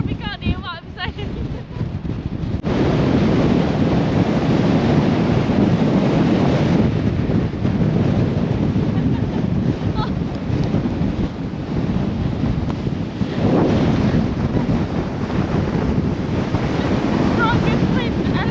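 Strong wind roars and buffets the microphone in a loud, continuous rush on a high exposed spot, with crashing surf beneath and gusts swelling and easing.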